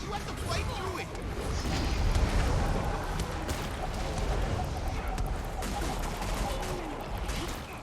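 Rapid gunfire crackles in a fantasy combat video game, dense bursts of shots layered under a busy, noisy battle mix, with talk heard over it.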